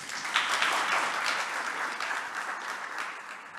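Steady applause from a gala audience fills the room, a dense wash of many hands clapping at even strength throughout, with no voices breaking through.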